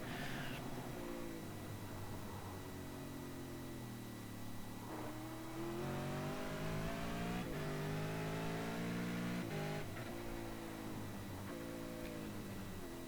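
A V8 race car at Bathurst in iRacing brakes from speed and downshifts into third and then second, its engine note dropping, then blipping upward in stepped revs, loud and close with no talk.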